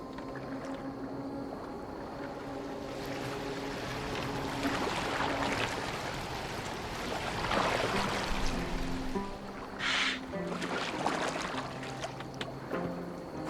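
Boat gliding across water in Assassin's Creed Valhalla, a steady wash of water and hull noise running throughout with a low tonal drone, a brief louder splash or swell near the middle; no talk.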